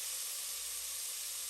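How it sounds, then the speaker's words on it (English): Chicken pieces brown in hot oil in a Dutch oven, giving off a steady, dense sizzle and hiss with no pauses and no talk. "we are browning up the chicken, aka frying up the chicken"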